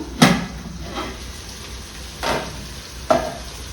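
Mutter soya veg pulao ingredients frying in a pan, a low continuous sizzle broken by three or four sharp scrapes and clinks of stirring.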